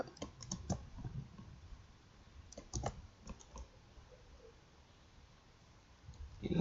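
Quiet clusters of clicks come from typing on a computer keyboard, with bursts of several quick keystrokes separated by pauses, fairly faint and close.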